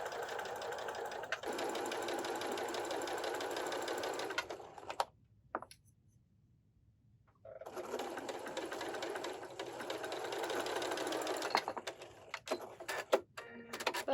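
A sewing machine stitches quilt block pieces together in a fast, steady mechanical whir, falls silent for a few seconds, then starts again with a few short bursts toward the end, close up with no voices.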